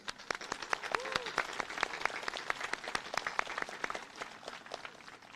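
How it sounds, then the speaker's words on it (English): Audience at a university commencement ceremony applauding graduates, scattered distinct hand claps forming a moderate, fairly sparse round of applause that slowly thins toward the end. "One more round of applause for them."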